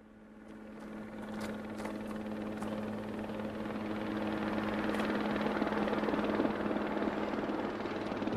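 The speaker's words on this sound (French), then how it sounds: "lorsque l'hélicoptère arrivait et vous transportait en salle d'urgence" Helicopter arriving at the CHUV hospital in Switzerland, its rotor chop and turbine drone growing steadily louder as it approaches, with a few faint sharp knocks over the top and no speech.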